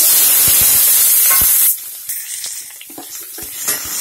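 Chana dal, urad dal, onion, green chillies, coriander and curry leaves fry together in a pan for brinjal palya, a steady close sizzle that drops to quieter crackling with scattered clinks and stirring.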